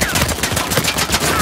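Rapid gunfire in Uncharted 4, a loud close burst of repeated shots in quick succession with busy combat noise layered around it.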